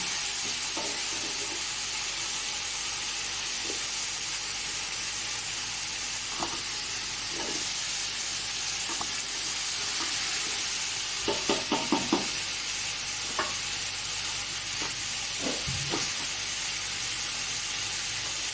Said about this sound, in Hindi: हमने इसको साथ साथ इसी तरह चम्मच चलाना है